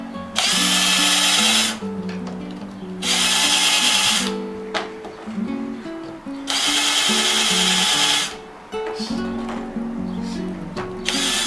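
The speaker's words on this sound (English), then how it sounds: "if you have a carbide drill, it's better to use a carbide drill" Loud power drill bursts with a carbide bit while repairing patio umbrella ribs, starting and stopping in several long runs with a grinding whine, separated by short quieter gaps of handling noise.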